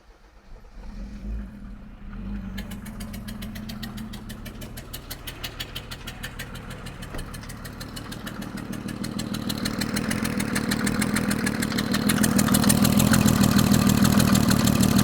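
A Mercedes W124 turbo diesel wagon with fuel problems, nearly out of fuel from a can, fires up and runs with an uneven, puffing idle after sitting for ages, growing steadily louder and rougher toward the end.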